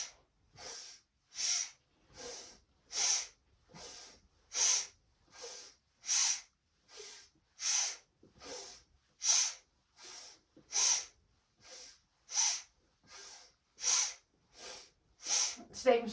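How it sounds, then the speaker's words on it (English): Forceful exhalations through the nose during a kundalini yoga breathing flow, about twenty sharp, hissing bursts in a steady rhythm, each followed by a brief pause, close and clear. "really focusing on that forceful exhalation out the nose"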